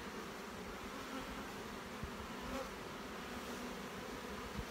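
A steady, close swarm of honey bees buzzing continuously on a hive frame, a dense droning hum with no voices.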